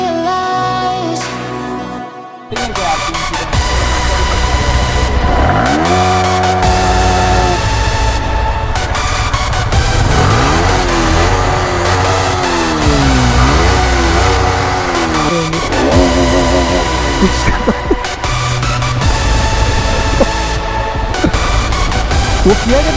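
A motorbike engine revs repeatedly after a service, its pitch rising and falling in sweeping surges, mixed under loud continuous background music.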